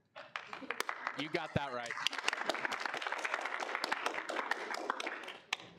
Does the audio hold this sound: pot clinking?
no